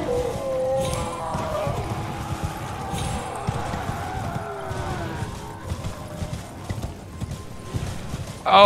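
Rhythmic hoof clip-clops of a galloping horse mount in the video game Elden Ring, steady and close, with game music and effects and a voice talking over it.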